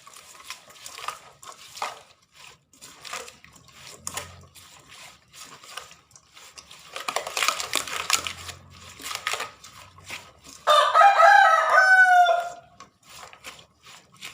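Rooster crowing near the end, loud and drawn out, after a stretch of faint clattering and stirring sounds.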